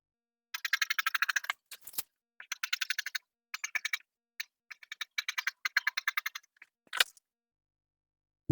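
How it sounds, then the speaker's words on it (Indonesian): Scissors cutting dress fabric along a sewing pattern, heard close as rapid bursts of crisp snipping in short runs separated by pauses, with a sharp knock or two, and no voices. "Sekarang saya gunting ya."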